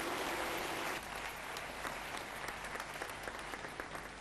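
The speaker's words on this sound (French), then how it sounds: "Sous vos applaudissements et encouragements," Audience applause and cheering for finalist teams at a youth competition event, a dense, steady wash of clapping from a large crowd that sustains throughout without a break.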